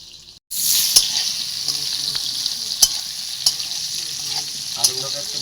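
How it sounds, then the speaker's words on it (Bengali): Potatoes frying in a pan with a little salt, a steady loud sizzle after a brief quiet start, with occasional clinks of stirring at the pan. "আলুগুলোকে একটু মোটামুটি ভালোই ভেজে নিতে হবে।"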